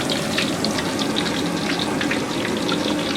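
Banana chips frying in hot oil give a steady, dense sizzle with crackling pops, loud and close, running without a break and with no voices.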